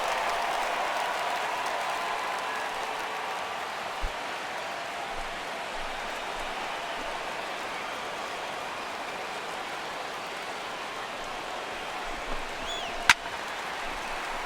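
A simulated baseball stadium crowd of over 39,000 in MLB The Show 16, Twins versus Red Sox, a steady roaring wash of cheering and applause that holds level throughout, with a sharp bat crack near the end.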